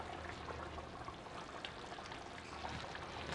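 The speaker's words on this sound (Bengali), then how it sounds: "এবার একটু সর্ষের তেল আর একটু ছড়িয়ে দেবো ওপর দিয়ে" Raw mustard oil pours over a simmering dish of small hilsa fish in mustard-poppy sauce, making a steady, soft trickling hiss that continues evenly without talk.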